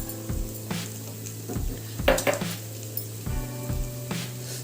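Cumin and coriander powders frying and being stirred into golden-brown onion paste in a pan for fish curry, a steady soft sizzle broken by scraping spoon strokes and clinks against the pot, close and alone.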